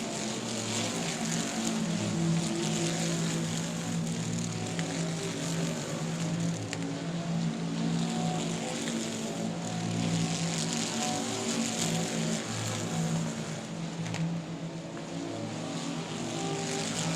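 Race cars lapping an oval speedway, a steady dense engine roar sustained throughout at moderate distance, with a race announcer's voice faintly under the engine noise.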